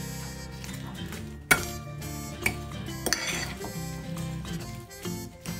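Sausage roll meat filling with cayenne pepper is mixed in a bowl, giving steady soft scraping and clattering utensil sounds with a few sharper knocks against the bowl, close by and without talk.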